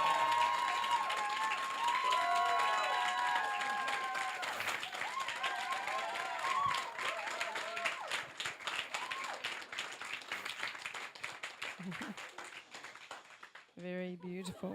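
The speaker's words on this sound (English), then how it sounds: "the next person to applaud is Louis Conway." A crowd claps and cheers loudly, the applause thinning out toward the end, with a voice speaking briefly near the close.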